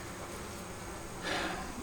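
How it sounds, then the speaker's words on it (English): Honey bees inside a hive, woken early in the morning while a new queen is being installed, hum in a soft continuous buzz that swells briefly louder near the end. "The bees are calm-ish."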